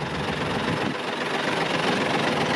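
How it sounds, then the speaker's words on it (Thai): Diesel engine of an Isuzu Giga 380 twelve-wheel truck with AMT gearbox idling, a steady quiet rumble with a low vibrating hum, continuous and unbroken, no voices. "อันนี้คือเสียงเครื่องนะครับ"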